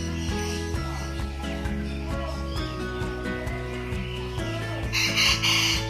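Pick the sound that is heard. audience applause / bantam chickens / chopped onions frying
bantam chickens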